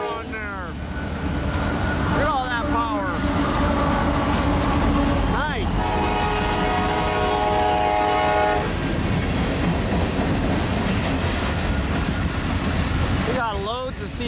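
Several CN freight trains rumble past a stationary Loram rail grinder train, with loud continuous rolling and clattering of wagons, horn blasts sounding repeatedly, and squealing wheel tones over the steady roar.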